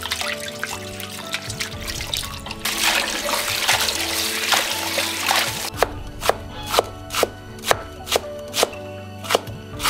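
Food is rinsed in water in a rural kitchen to wash off wine lees: several seconds of close splashing and sloshing, followed by a run of regular sharp knocks like a knife chopping on a board.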